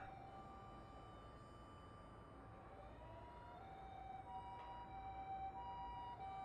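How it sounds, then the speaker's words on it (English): Faint, far-off emergency sirens wail steadily over a low city rumble in a Chaos;Head game scene, with a restless urban hum underneath and no voices. "Sirens rang out unceasingly far off in the distance."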